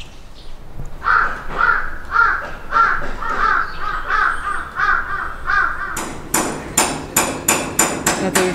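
Hammering at a Buddhist temple under renovation in Japan: a series of evenly spaced, ringing blows that comes close and loud near the end, with crows cawing repeatedly before it.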